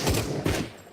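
Shotgun blasts in the VR shooter game Into the Radius: two close, heavy booms about half a second apart, each trailing off quickly.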